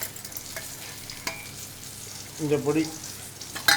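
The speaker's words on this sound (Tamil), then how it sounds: "அது வெங்காயம் வதங்கணும்." Onions soften in hot oil in a pan for a tamarind curry, a low, steady sizzle that runs under a woman's quiet speech, with a brief louder stir near the end.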